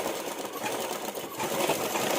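A sewing machine runs steadily, stitching small fabric pieces to make a blouse tassel (latkan). The motor whirs evenly and close by, with no talking.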